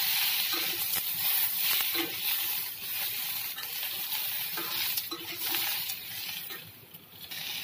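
Mango pieces for pickle being stirred in a pan with a little oil, a continuous gentle sizzle with occasional spoon scrapes against the pan, close and steady, no talk.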